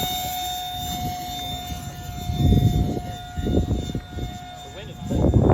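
A Simple Stick RC model airplane flies overhead at FliteFest 2021, its electric motor a steady high whine that swells as it passes, while people talk in the background.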